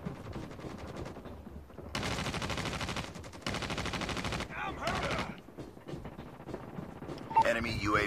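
Gunfire in Call of Duty Mobile comes as rapid automatic bursts in a few loud blocks, separated by quieter stretches, with a player talking over the action.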